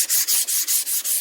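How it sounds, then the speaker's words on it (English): Rhythmic sanding of guide coat on the body of a 1979 Ford F150 4X4 under restoration, a loud, close, hissing abrasive rub repeating in quick even back-and-forth strokes with no talk. "When you're sanding on it"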